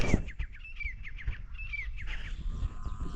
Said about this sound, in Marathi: त्याचं चिवचिवाट चालू आहे.